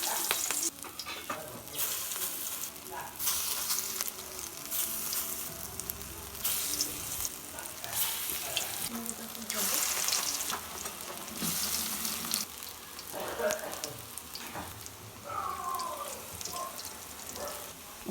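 Battered mustard-flower fritters fry in hot oil in a wok, giving a loud, close, continuous sizzle with rising and falling bursts as pieces go in and are stirred. Faint voice-like tones appear near the end.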